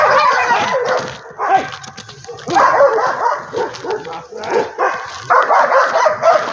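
A dog in snowy Russian winter conditions outdoors barks and yips excitedly in repeated rapid bursts, loud and close, with occasional whimpering between volleys.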